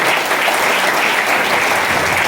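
Audience applause fills a business seminar hall, a dense, steady wash of many hands clapping, loud and close and without a break.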